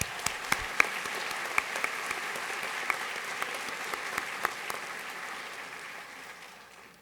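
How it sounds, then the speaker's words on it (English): An awards ceremony audience applauds steadily, a dense patter of many hands clapping with a few sharp claps standing out, fading gradually toward the end. "Can we give them all a round of applause?"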